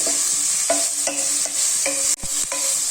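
Vegetables stir-fried quickly for instant noodles, a loud close sizzle broken by repeated rhythmic scrapes and tosses of a spatula in the pan, about six strokes with a sharp knock near the end.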